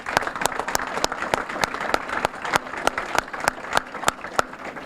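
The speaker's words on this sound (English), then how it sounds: "let's give them a round of applause." Applause at a police promotion and new officer ceremony, with a modest crowd clapping in a loose, uneven rhythm, individual sharp claps standing out near the microphone.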